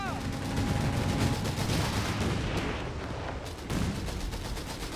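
Artillery and gunfire from a Company of Heroes 3 match at a live pub tournament, a continuous dense barrage of booms and crackling shots with voices and crowd noise mixed in throughout.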